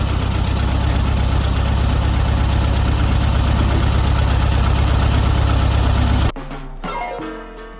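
A Volkswagen Beetle engine idles loudly and evenly after a tune-up, with a dense rattling drone. It cuts off abruptly near the end, leaving a brief clatter and fading mechanical rattle.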